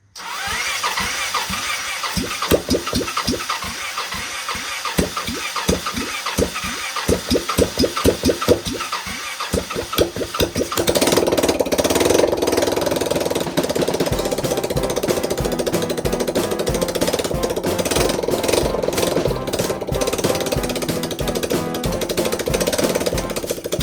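A Kawasaki motorcycle engine is cranked through a run of rapid starter bursts, then catches and settles into a loud, steady idle that carries on alone to the end.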